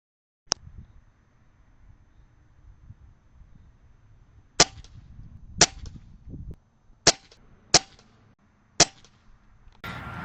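An Umarex Notos air rifle with a bottle conversion fires pellets for groups: sharp, snappy cracks, one early and then several spaced roughly a second apart, with quiet handling noise between shots.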